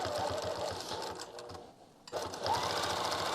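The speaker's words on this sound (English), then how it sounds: "So kind of doing stitch in the ditch around this section, adjusting our hands as needed." A sewing machine stitches in the ditch while quilting, its steady rapid needle chatter running loud and close, pausing briefly near the middle before resuming.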